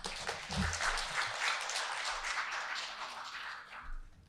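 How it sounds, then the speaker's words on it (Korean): An audience at an education data and AI conference applauding to welcome the next presenter, a full round of many hands clapping that swells quickly, holds steady, then tapers off. "큰 박수로 맞이해 주시기 바랍니다"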